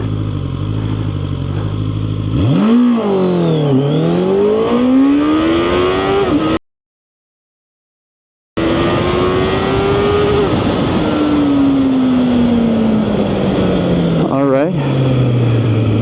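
A QJMOTOR SRK600RS motorcycle launches hard from a standstill and accelerates to 100 km/h, its engine note rising and falling through several gear changes, loud and close, with a brief dropout partway through.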